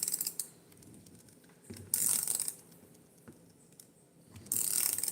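A 1/4 inch ratchet with a 4-degree arc swing, its pawl clicking in rapid, crisp bursts as the handle is swung back and forth close by, with quieter pauses between strokes.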